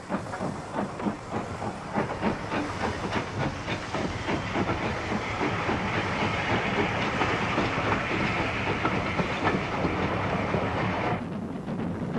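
A steam train on the Keighley and Worth Valley Railway rolls past a passing loop with steady clickety-clack of wheels over rail joints and a hiss of steam, loud and close, fading slightly at the end.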